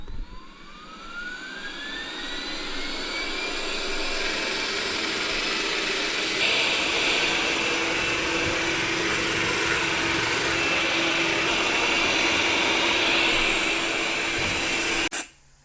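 Roborock S7 robot vacuum starting a zone clean, a rising whine as the motor spins up into a loud, steady whooshing drone that continues close by and cuts off abruptly at the end.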